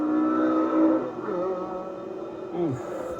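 Car approaching at full revs and speed near a roundabout, a loud engine drone whose pitch sags as it passes close by, with a voice speaking over it.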